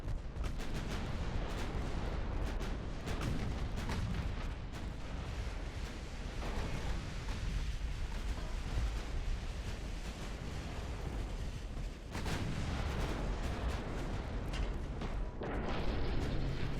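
Armored cruisers trade naval gunfire in Ultimate Admiral Dreadnoughts, a dense stream of distant booms and cracks over a steady roar of sea and battle, with a louder burst near the end and no talking.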